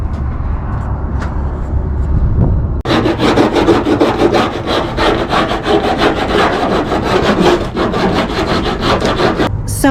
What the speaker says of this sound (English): Next up is I need to file all the hard edges and then paint all the cut edges.